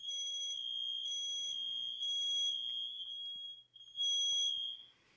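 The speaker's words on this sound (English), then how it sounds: "you will be able to listen if your detectors are still going off" A smoke detector alarm going off indoors, sounding in loud repeating bursts of shrill high-pitched beeping with a brief gap near the end, no voices.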